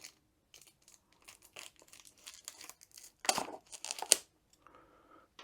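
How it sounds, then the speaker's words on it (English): Scissors slice and tear open the sealed wrapping on a diamond art kit box, giving close, irregular crinkling and ripping bursts with quiet gaps, loudest near the end. "use the scissors."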